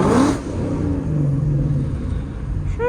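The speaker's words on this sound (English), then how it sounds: "Let's give you guys another little rev." A Ford Mustang 5.0 V8 revs while parked: a loud, deep engine roar that swells at the start, then settles into a rumbling, fluctuating idle close by.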